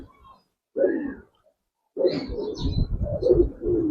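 Silver Giribaz pigeons give deep, rolling coos in close, separate bursts with pauses between them, and a few higher chirps sound faintly behind.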